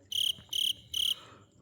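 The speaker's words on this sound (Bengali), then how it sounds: "শুধু বাতাস বইছে আর ঝিঝি পোকার ডাক" Three crisp bursts of cricket chirping, evenly spaced and fairly close, in quiet evening surroundings.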